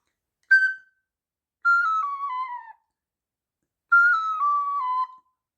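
A wind instrument, apparently a recorder, plays a short phrase: one brief tongued note, then two longer runs of slurred notes stepping downward, separated by silence, clean and close with no talking.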